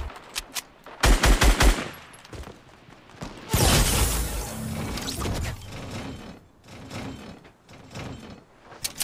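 Gunfire in the Fortnite battle royale video game: loud bursts of rapid automatic shots, including a dense volley in the middle, with scattered single cracks between them and no talking.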